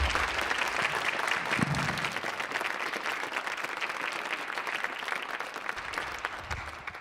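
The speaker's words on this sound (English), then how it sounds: "if we want to give them all a round of applause" Applause from the audience at the close of a science-and-spirituality talk, a dense, steady wash of clapping that holds evenly for several seconds before thinning slightly.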